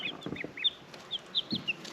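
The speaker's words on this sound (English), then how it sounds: "show you the chicks we got yesterday" Newly bought chicks on a homestead give repeated high, rising peeps in quick irregular bursts, close by, over soft rustling and low background noise.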